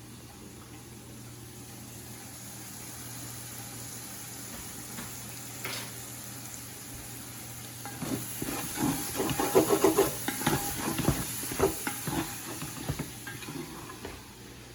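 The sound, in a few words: vegetables sweating and sizzling in a pan with thyme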